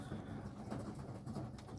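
Pigeons in a UK garden give soft, low cooing, close and continuous over a faint outdoor background, with light rustling mixed in.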